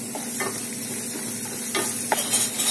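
Ginger garlic paste sizzles steadily in hot oil with green chillies and curry leaves while a spoon scrapes and stirs the pan now and then. The frying is moderately loud and has no talk over it.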